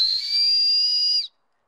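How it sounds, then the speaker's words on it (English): One loud, shrill blast from an Ultimate Survival Technologies survival whistle held steady for over a second, then cut off sharply into silence. "And then you also have your whistle."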